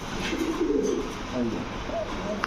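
Male Blondinette pigeon, a classic blondie type, cooing in a few low murmuring phrases at close range over steady background noise, with people talking nearby.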